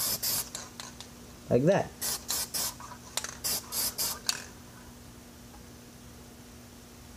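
Brown spray paint hissing from an aerosol can during a camouflage paint job, a rattle of the can followed by a series of short, close bursts of spray, with a few quiet spoken words.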